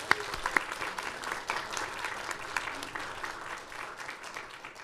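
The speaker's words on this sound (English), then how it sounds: "So let's give them a round of applause." An audience at a school board meeting gives a round of applause, dense continuous clapping heard from across the room that holds steady before easing off slightly at the end.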